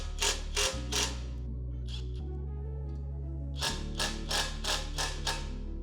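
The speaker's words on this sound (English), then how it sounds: "then tighten the collars by fastening the two Allen bolts" Allen bolts being tightened on shaft collars on the rear axle of a Battle Aero drift kart: a few short bursts of fast metallic ratcheting clicks, close and fairly quiet, over a steady low hum.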